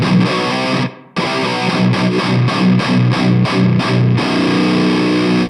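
Heavily distorted electric guitar for industrial metal, played through a Nembrini 8180 amp emulating a 5150: loud, tight rhythmic chugs with a brief cut-off near the start, then continuous riffing.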